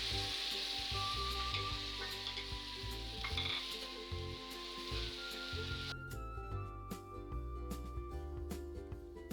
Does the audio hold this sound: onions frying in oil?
yes